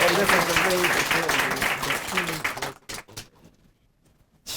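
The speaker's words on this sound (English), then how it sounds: "Let's give her a round of applause." Applause from an audience at an award ceremony honoring a congresswoman, a dense burst of clapping with voices mixed in that fades out after a few seconds into near quiet.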